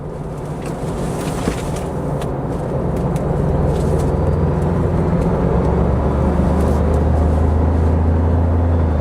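A 2026 Toyota 4Runner Limited driving in Sport Plus mode, heard from inside the cabin as a steady low engine and road rumble that builds slightly partway through, continuous and fairly loud.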